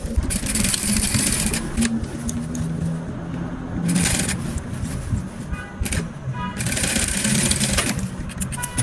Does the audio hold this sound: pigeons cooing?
no